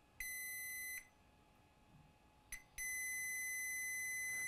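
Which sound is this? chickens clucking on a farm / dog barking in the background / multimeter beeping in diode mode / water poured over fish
multimeter beeping in diode mode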